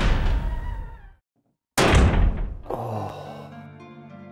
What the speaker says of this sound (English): we go in this through this fucking door